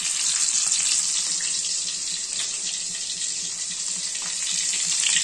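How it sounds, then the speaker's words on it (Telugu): Dried salted fish, uppu karuvadu, fries in hot oil with a loud, steady, hissing sizzle that holds evenly throughout, close up and with no talk. "బాగా ఆయిల్ వేడెక్కిన తర్వాత ఎండు చేపల్ని వేసుకోవాలి"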